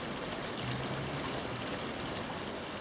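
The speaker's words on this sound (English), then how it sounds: "here's another view of the waterfall, all working quite well now." Garden pond waterfall pouring over a newly relined pond, a constant broad rushing splash of running water, close and steady with no other sounds.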